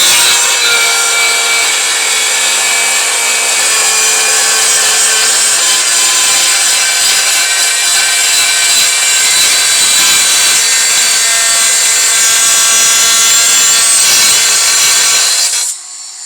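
A rotary engraver fitted with a thin Ukrainian-made Distar Butterfly cutting disc, 0.6 or 0.45 mm, driven by a German tool, cuts steadily with a loud, continuous high-pitched grinding whine for about fifteen seconds before stopping abruptly.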